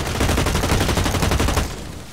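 Rapid automatic gunfire in the video game Blacklight Retribution, a loud, dense burst of shots for nearly two seconds that then cuts off.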